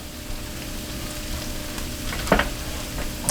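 Butter sizzling on a small flat grill before bread goes down, a faint steady hiss with a brief louder crackle near the end.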